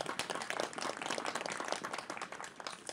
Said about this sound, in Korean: 다시 한번 두 분께 따뜻한 박수 부탁드리겠습니다